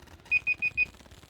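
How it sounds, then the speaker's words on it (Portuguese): An alarm beeps four times in quick even succession, a clear high electronic tone over a quiet background during a live stream. "desculpa, é só o alarme para não passar o tempo aqui"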